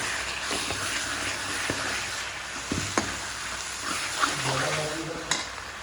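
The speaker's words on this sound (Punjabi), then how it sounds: "ਮਸਾਲਾ ਆਪਣਾ ਭੁੱਜ ਚੁੱਕਿਆ ਜੀ ਵਧੀਆ ਤਰੀਕੇ ਨਾਲ" Masala spices roast in a pan while cooking a chicken curry, giving a steady close sizzle broken by scraping stirs and light clinks of a utensil against the pan.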